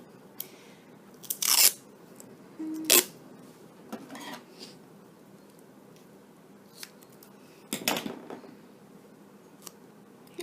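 Black tape being pulled and wrapped around an Ethernet cable, with a few sharp crackling tears and crunchy bursts standing out against a quiet background.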